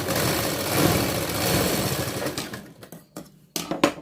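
A sewing machine stitches a blouse in a steady motor whir that runs continuously, then breaks into short stop-start bursts near the end, close and loud, with no voices.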